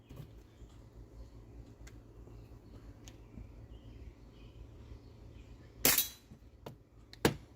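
Shots from a Hwasan/Farsan target series airsoft pistol firing 0.30 gram aluminum BBs: two sharp, loud cracks a second or so apart, the second followed by a quick tick, over a faint outdoor hiss with distant birdsong.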